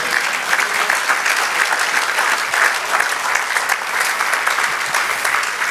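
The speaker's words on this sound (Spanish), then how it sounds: "Dale otro aplauso al Señor." A church congregation claps steadily in praise. The applause is dense and sustained at an even level throughout, with no talk over it.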